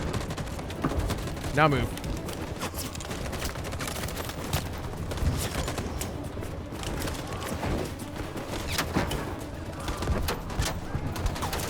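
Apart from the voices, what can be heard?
gunfire in video game Detroit Become Human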